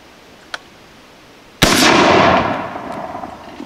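A single loud muzzleloader rifle shot cracks out close by, its boom trailing into a long rolling echo across open ground after a brief small pop beforehand.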